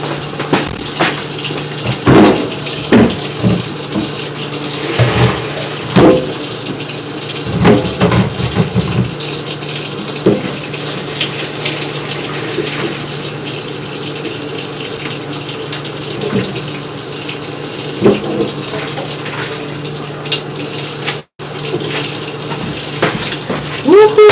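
Water pours steadily from a pan into a kitchen sink, splashing loudly against the basin for most of the stretch, with brief knocks of the pan and no talking over it.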